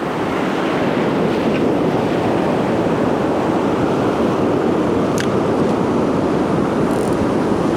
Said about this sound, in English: Waves are close in.